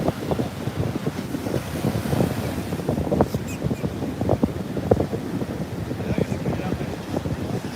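Ocean surf rolls in at Juno Beach, a continuous rumbling wash of waves mixed with heavy wind buffeting the microphone, with a person talking over it.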